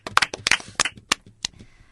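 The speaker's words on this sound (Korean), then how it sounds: "우리 규환 씨에게도 박수 한번 칠까요?" Scattered hand claps from a few people in a Korean Christmas Eve radio studio broadcast, a handful of sharp, uneven claps over about two seconds, fairly close and fading out, with no talk.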